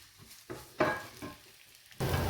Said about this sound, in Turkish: ince bir şekilde doğranmış soğanımızı ekleyelim. Ve aynı anda bir diş sarımsağım var. Onu da ekleyelim. Ve kavuralım.